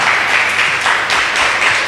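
Loud, dense applause fills a church conference hall, a continuous roar of many hands clapping at once that rises and falls slightly, with no speech over it.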